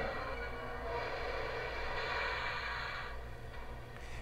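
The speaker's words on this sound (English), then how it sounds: "Let's bring the train to a stop." Sound effects from a Lionel Legacy model train locomotive as it slows to a stop: a steady, rumbling rail-car roar with low engine drone and brake hiss, continuous and moderately loud.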